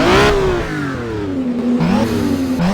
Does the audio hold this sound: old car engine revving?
yes